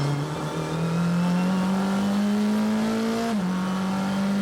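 An NP01 EVO race car at full throttle on the Sonoma circuit: a loud, steady engine drone climbs in pitch, drops briefly at an upshift, and keeps pulling until it cuts off abruptly.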